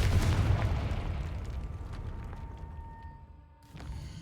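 A Confringo fire spell cast in the Hogwarts Legacy video game bursts with a loud, broad explosive boom that rolls into a decaying rumble and crackle, followed by a second smaller impact near the end.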